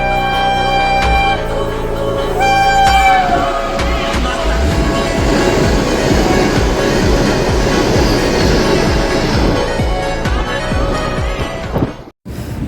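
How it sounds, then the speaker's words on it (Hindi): The Tata Nagar–Patna Vande Bharat Express rushes past, a loud sustained roar of rolling wheels and rail clatter as heard from a passenger train, with a horn-like tone early and a sharp cutoff near the end. "सामने से आ रही है टाटा नगर पटना वंदे भारत एक्सप्रेस"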